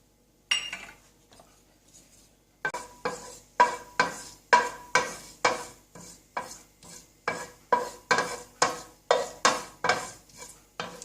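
Sesame seeds fry in about three tablespoons of sesame oil in a pan. A utensil stirs and scrapes them in a steady rhythm of sharp, repeated strokes that grows regular after a brief quiet start, close and fairly loud, with no voices.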